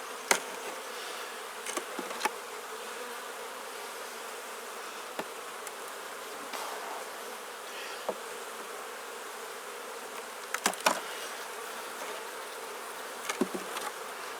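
Honey bees at an opened Langstroth hive make a dense, continuous buzz during an inspection, steady and close, broken by a few sharp clicks and knocks.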